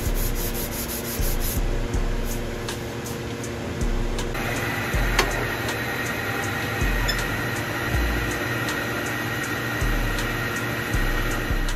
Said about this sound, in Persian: سنباده کاری آخرمونو، گرید آخر سنباده رو با دست میم انجام میدیم